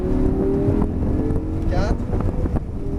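Car accelerating on a race track during a driving lesson, a loud continuous engine roar with wind buffeting, and a voice speaking over it.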